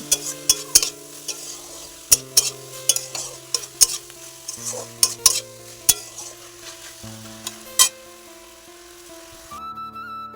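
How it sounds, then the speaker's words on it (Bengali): A Bengali vegetable chorchori with salt and turmeric being stirred in a pan, a spoon scraping and clanking in sharp irregular strokes over a low frying hiss, close and fairly loud, ending in a quieter tonal hum. "লবণ হলুদ দিয়ে দিলাম দিয়ে ভালো করে নাড়াচাড়া করে নেবো"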